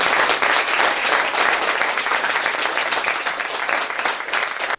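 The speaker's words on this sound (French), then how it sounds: "Je pense qu'on peut les applaudir encore plus fort." Audience at a reading-night event in Sainte-Maure-de-Touraine breaks into dense, sustained clapping, loud and close, continuing without pause for a few seconds before cutting off at the end.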